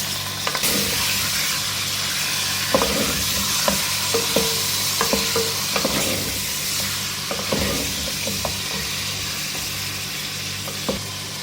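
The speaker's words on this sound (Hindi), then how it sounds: "ऑयल के साथ इसको फ्राई करना है, इसका कलर चेंज करना है।" Chicken pieces frying in oil in a pan, giving a steady soft sizzle with repeated scraping and clinking taps as a utensil stirs them, no voices present.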